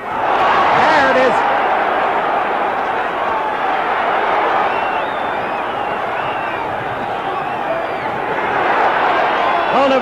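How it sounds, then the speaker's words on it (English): Boxing arena crowd roaring and cheering through a sluggish Muhammad Ali versus Oscar Bonavena heavyweight fight, a dense, steady wall of loud crowd noise with a commentator talking over it the whole time. "Crowd alive for a change."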